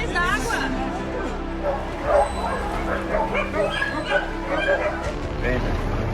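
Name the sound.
small dog being rescued from flood water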